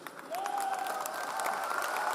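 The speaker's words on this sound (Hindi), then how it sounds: "हम तो ताली इसलिए बजा रहे हैं कि डायमंड बनने के लिए जितनी ताली बजानी है उतनी फटाफट बजा दे," An audience at a motivational business speech applauds with steady, fairly faint clapping throughout. A sustained whistling tone runs over the clapping.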